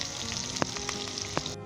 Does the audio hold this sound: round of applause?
no